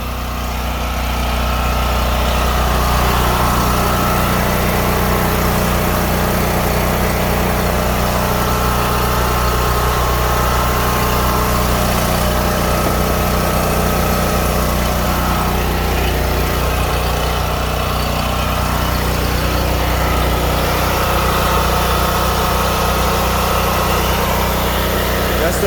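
A replacement portable generator with only a 20 amp outlet runs steadily under test, its engine holding a loud, even idle-like drone with a low hum and vibration throughout, close by and alone.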